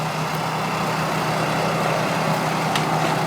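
A tracked Orec flail mower cutting vegetation gives a steady, dense mechanical drone with a low engine rumble and a constant whirring hiss, unbroken and fairly loud throughout.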